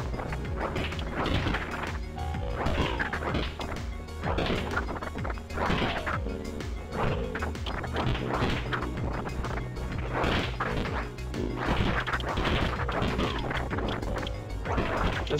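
Melee smashing attacks in the zombie game Death Road to Canada land as steady, loud whacks, crashes and thuds repeating throughout over continuous game noise.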